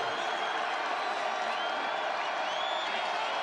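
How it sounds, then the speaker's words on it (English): A stadium crowd at a college football game between Marshall and James Madison roars steadily, a dense sustained wash of cheering with scattered whistles, heard from a distance. "Crowd is in it"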